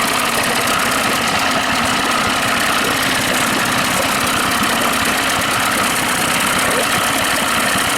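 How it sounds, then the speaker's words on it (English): A 1998 Mercury Force 40 HP two-cylinder two-stroke outboard on a 1997 Bass Tracker Pro 16 idles loud and close, a continuous rough, vibrating drone with steady knocking pulses throughout. "Shake, rattle, and roll, but they say that's what 2-cylinder does. 2-cycle, 2-cylinder, 2-cycle."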